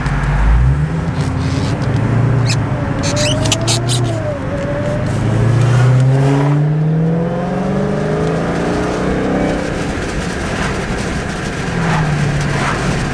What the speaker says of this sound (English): That supercharger whine